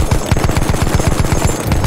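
Rapid automatic gunfire from a weapon in Battlefield 1 multiplayer conquest, a steady burst of closely spaced loud shots running the full length with no pause.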